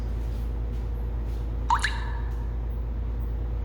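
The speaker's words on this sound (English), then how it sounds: "Sound like something was dripping" A single water drip lands with a clear, bright plop over a steady low hum, alone and fairly close.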